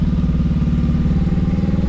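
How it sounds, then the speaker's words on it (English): A motorcycle engine drones in first gear with the clutch fully out, a steady loud, close, pulsing mechanical rumble under throttle without any shift occurring. "I'm gonna let the clutch out completely, and we are in first gear. The engine is asking to shift."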